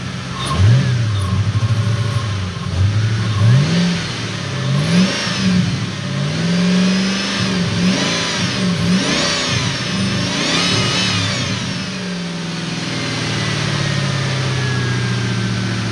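A 1996 Ford Mustang GT engine idles, then revs up repeatedly in rising and falling bursts, loud and close, before settling back to a steady idle.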